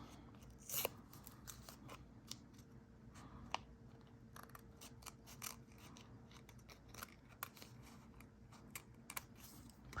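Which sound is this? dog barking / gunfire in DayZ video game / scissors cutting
scissors cutting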